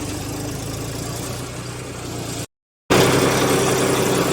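A loud, steady tractor engine rumble at idle, constant and close, briefly cutting out for a moment before resuming just as strong.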